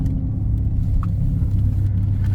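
Training car at a driving-school skid course in Lublin, engine rumbling steadily and close with a low, even tone under road noise, no voices.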